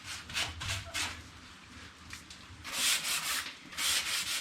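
Sandpaper rubs back and forth over a wooden plantation-style rocking chair in rhythmic strokes, close and fairly loud, with the later strokes harsher and longer.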